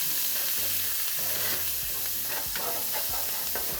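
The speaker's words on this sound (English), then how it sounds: "I'm just going to be searing for 2 minutes." Onion, garlic, fresh parsley and basil sear in melted butter, giving a continuous loud sizzle with stirring scrapes and soft low knocks of a spoon against the pan.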